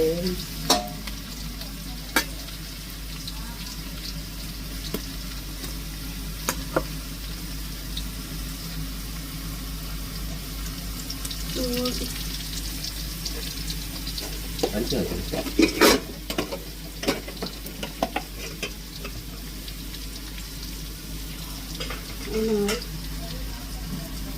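Food frying in a pan with occasional stirring, a steady broadband sizzle running throughout with scattered scraping clicks from a utensil.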